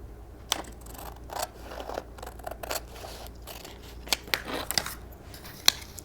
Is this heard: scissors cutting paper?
yes